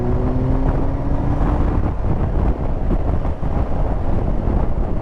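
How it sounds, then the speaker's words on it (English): Heavy wind buffets the microphone while a motorcycle rides along a road in icy winter conditions, a loud, constant low roar with gusting rumble and faint engine drone underneath, with no talking. "It is windy."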